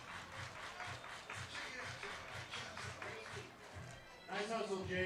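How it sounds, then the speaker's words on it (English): Crowd at a Portland Pickles versus Port Angeles Lefties baseball game applauding steadily, a broad wash of clapping that swells louder near the end, with a voice speaking over it. "Keep clapping for your right fielder, number 45, Ryan Gardino."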